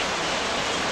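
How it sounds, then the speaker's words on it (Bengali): Steady rain falling outdoors during a downpour, a dense, even hiss of drops with no pause, heard alone. "এই যে দেখেন কত সুন্দর বৃষ্টি হচ্ছে"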